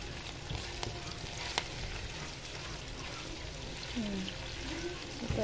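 Onion sautés quietly in a pan for an adobong kangkong with tofu, a faint steady sizzle with a couple of light clinks and a brief trace of voice toward the end.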